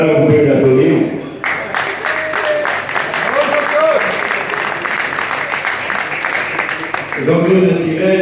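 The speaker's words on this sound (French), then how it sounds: "vous pouvez l'applaudir" An audience at a Pierrefitte motorcycle club's 40th anniversary speech breaks into sustained, dense applause lasting several seconds. A voice speaks before the clapping and again as it fades.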